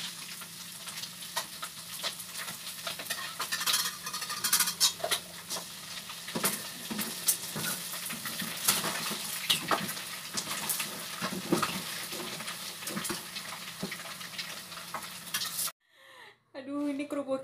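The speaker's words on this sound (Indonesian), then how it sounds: "aku mau goreng kerupuk ini" Kerupuk crackers frying in hot oil in a home kitchen, a dense continuous sizzle and crackle with stirring scrapes, loud and close for about fifteen seconds, then cutting off abruptly before a brief voice.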